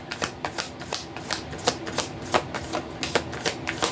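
Tarot cards shuffled by hand in a steady series of quick riffling, slapping bursts, close and crisp, with no talking.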